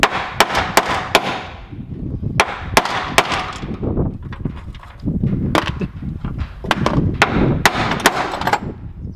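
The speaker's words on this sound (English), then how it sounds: "More hammers." Hammer striking a Tein Flex Z coilover shock during installation on a Nissan R34 Skyline, with sharp, loud metallic blows in irregular clusters over a rustling, clattering workshop background.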